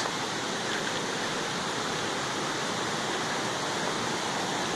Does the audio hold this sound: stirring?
no